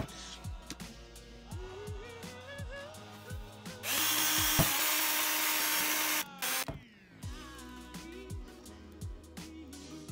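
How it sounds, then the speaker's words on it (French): Cordless screwdriver spinning a small brush to clean motorcycle carburetor jets from a Suzuki Bandit GSF 450: short whirring bursts that rise and fall, with a sustained louder buzzing run in the middle, close and fairly quiet. "je vais essayer avec finalement une petite brosse sur la visseuse de nettoyer comme je peux"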